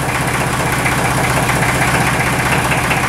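A tractor more than 50 years old idles steadily at close range, its engine churning in an even, low, knocking rhythm for the whole stretch with no talk over it.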